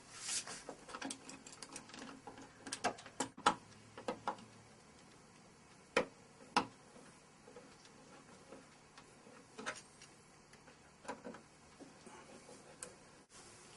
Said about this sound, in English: So this electrician screwdriver, it swivels.